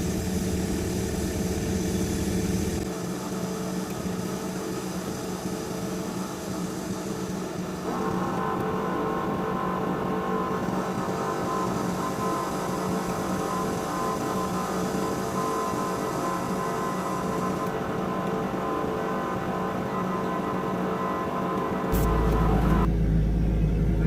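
The engine of a Doosan DX55W wheeled excavator idles steadily nearby, a constant low rumbling drone that shifts slightly in tone partway through, with no talking.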